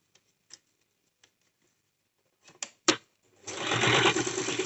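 A sewing machine stitches a cigar pant, a few soft ticks and clicks first, then a short loud burst of steady whirring stitching at close range, with no talk.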